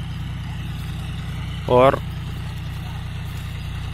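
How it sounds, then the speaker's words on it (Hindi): A John Deere 5205 tractor of 50 hp pulling a harrow at around 1300-1400 RPM, a steady low engine drone throughout, with a brief voice cutting in over it. "ऐसी बात नहीं है कि जैसे ट्रैक्टर खींच ना पा रहा हो, खुल कर चल रहा है भाई"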